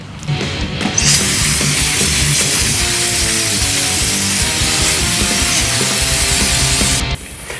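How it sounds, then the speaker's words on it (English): A high-pressure compressed-air nozzle blows a loud, continuous hiss to clean a bug zapper, starting abruptly after a second and cutting off near the end, with no talk over it. "I can use this air to clean up my bug zapper."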